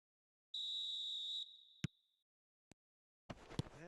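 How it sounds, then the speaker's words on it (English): A referee's whistle opens a football match: one sustained shrill blast of almost a second, followed by a short sharp click, then a small tap and a burst of crowd or broadcast noise toward the end. "There's the whistle."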